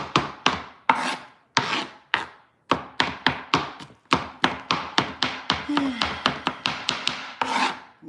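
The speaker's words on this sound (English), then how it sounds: "I apologize for all this chopping" A knife chops vegetables on a board for meatless spaghetti, giving a rapid series of sharp, close thunks in irregular bursts, with a brief faint vocal sound partway through.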